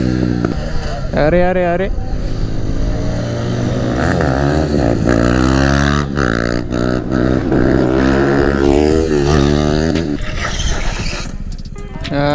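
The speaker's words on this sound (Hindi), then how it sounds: "सारा ड्यूक में एग्जॉस्ट लगा हुआ है" KTM Duke motorcycles fitted with aftermarket exhausts rev and roar nearby during wheelie stunts, engines rising and falling in pitch with loud throttle blips, while people shout and talk over the noise.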